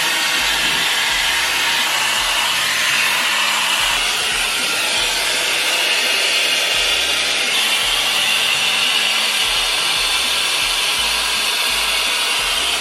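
A Shark hair dryer blows hair dry with a steady, loud, airy whoosh that runs unbroken for the whole stretch, close by and with no talking.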